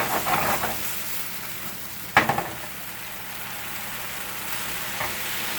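Quinoa and mushroom filling flash cooking in a hot pan, a steady close sizzle with a sharp clattering stir midway and a softer scrape later, no voices.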